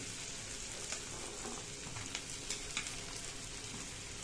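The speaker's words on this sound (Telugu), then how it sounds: "ఇప్పుడు మనము బీరకాయ ముక్కలు వేసేస్తాం" Ridge gourd pieces fry with onions in a pan, giving a steady close sizzle with occasional sharp crackles and stirring clicks throughout.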